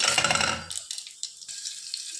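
Dried red chillies, bay leaf and cumin seeds hit hot oil for a mutton curry, giving a loud crackling sizzle that fades into softer spitting and a few scattered pops.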